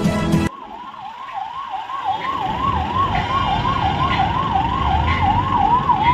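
A loud ambulance siren wails in a rapid, repeating up-and-down pattern over a bed of jammed traffic noise and idling engines near the Shahapur underpass bridge.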